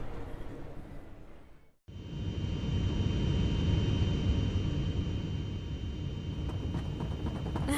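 After a brief moment of near silence, a steady, broad airplane engine roar fills the space and holds constant, like cabin noise in flight.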